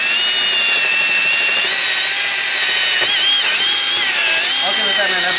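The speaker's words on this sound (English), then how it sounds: "Okay, so I drill out the holes." A power drill boring holes in birch wood for a subwoofer box port, its loud, steady whine holding throughout with slight pitch wavers as the bit bites.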